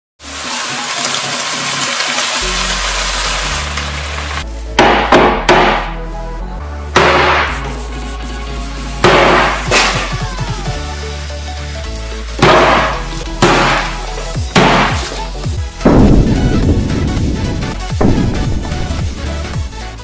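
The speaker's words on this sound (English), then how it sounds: "smash it with the hammer like an iced Coca-Cola" Repeated loud hammer blows crack and burst a Coca-Cola can frozen with liquid nitrogen, each blow followed by fizzing spray and splatter, with a steady hum underneath.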